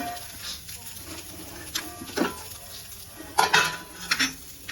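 Fresh grated coconut frying in a pan with little oil, soft sizzling under intermittent stirring and spatula scrapes, a few louder clinks near the end.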